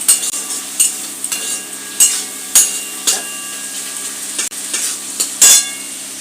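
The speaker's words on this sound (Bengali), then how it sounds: "রসুন কুচি বেশি করে দিলাম দিয়ে আমি আবার নেড়ে নেব আবার নেড়ে নিলাম" A spatula stirs chopped garlic frying in a pan, giving a steady close sizzle broken by roughly eight sharp metallic scrapes and knocks at a loose, uneven rhythm, with no speech.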